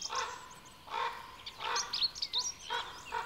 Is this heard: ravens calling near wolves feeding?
yes